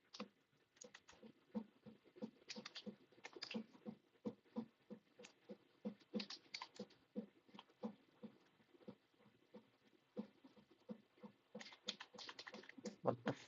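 Rapid, uneven tapping on a computer keyboard, close and fairly quiet, with bursts of clustered keystrokes and short pauses throughout.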